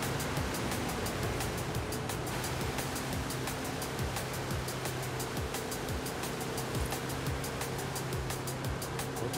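In Forza Horizon with Hot Wheels, a car drives through water, giving a steady, continuous rushing and spraying wash like surf, with no clear breaks, under a faint engine drone.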